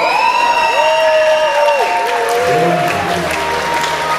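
Audience applause at a university ball marking 15 years of the College of Polytechnics Jihlava, building up and carrying on loud and close, with a musical fanfare swelling over it.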